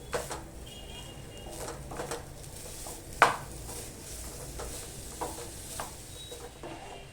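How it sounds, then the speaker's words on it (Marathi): A coconut and jaggery mixture with cardamom powder is stirred in a pan over a low flame. Faint scraping and soft clinks of a spoon sound near and quiet, with one sharper clink midway. "गॅस ना मंद ठेवून ना सतत असं ढवळत राहायचं आहे"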